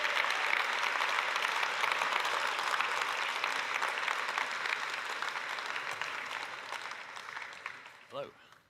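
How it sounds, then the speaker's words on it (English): A conference audience gives a long, steady round of applause for Ireland's former Taoiseach, the dense clapping running for several seconds before tapering off near the end. "Please give him a massive round of applause"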